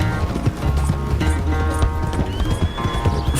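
Horse hooves clip-clop steadily alongside occasional whinnies from a horse in Red Dead Redemption 2, over a continuous game backdrop with no talk.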